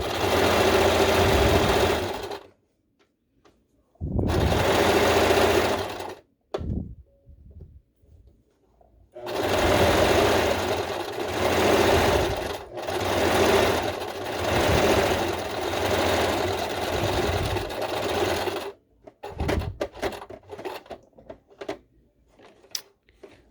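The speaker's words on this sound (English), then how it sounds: "Let's do a little sewing." A sewing machine stitching fabric for a Pride face mask, running in loud, steady whirring bursts separated by pauses and a few light clicks as the work is turned and pins are moved.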